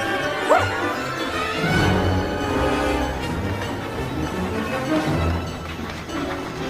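A little dog barks and yips in short, excited bursts, with a whimper, over a busy background, all fairly close and loud.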